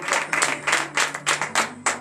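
A church congregation at a morning prayer service claps in bursts of rhythmic, fairly loud applause, about seven distinct waves within two seconds, with a low hum beneath and no clear voices.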